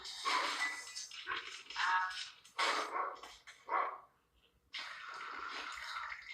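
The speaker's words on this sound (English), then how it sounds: "Could you please get that dog out of here?" A dog barks in several loud bursts with short gaps, close by, and a longer stretch of noisy sound follows near the end.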